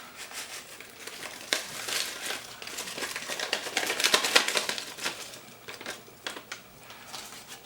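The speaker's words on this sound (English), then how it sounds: "So we also have our brown gravy mix. Quickly cut that open. And just add that right in." A packet of brown gravy mix for a vegetarian beef stew on a wood stove is crinkled, snipped open and shaken out, a close run of papery rustles and crackles with no voices.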